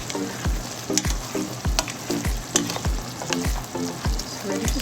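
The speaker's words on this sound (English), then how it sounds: "in 3 minutes, we're going to stir it up" Pork adobo simmering in a pan is stirred with regular scraping strokes, about two each second, over a constant bubbling sizzle close by.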